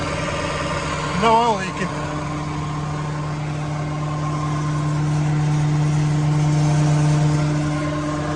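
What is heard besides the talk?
Deutz Fahr tractor engine started and idling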